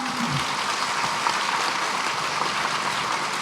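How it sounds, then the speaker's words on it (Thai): Dense, steady audience applause fills a hall at a Thai political talk on the 2023 election, a continuous wash of many hands clapping without a break and no voices over it. "ขอเสียงปรบมือให้สองพักด้วยครับ"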